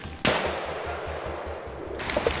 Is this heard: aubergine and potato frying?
no